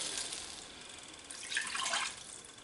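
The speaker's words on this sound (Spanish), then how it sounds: "Echaremos el agua poquito a poco, para que no cambie mucho la temperatura." Water poured little by little into a cooking pot while making chickpea stew with artichokes and prawns, a soft steady trickle that swells into a brighter, louder splash midway before easing off again.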